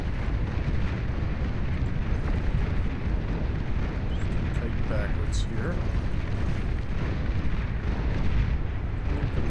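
Marauder cannons in the real-time strategy game Beyond All Reason fire amid a large battle, making a dense, continuous rumble of booming shots and explosions that never lets up, with a commentator talking over it.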